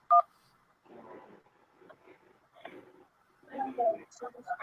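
A single short telephone keypad tone sounds at the start as 1 is pressed to accept a call, followed by pauses and bursts of speech from people talking afterward.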